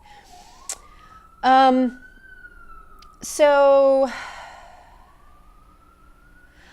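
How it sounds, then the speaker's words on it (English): A siren wails in the distance in New York, its pitch slowly rising and falling, while a person speaks briefly over it in two short bursts. "Sorry about the sirens outside."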